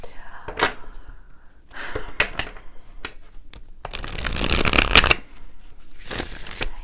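Playing cards are shuffled and riffled close by in bursts of crisp flicking and a longer rapid riffle, with brief pauses between, while a person speaks nearby.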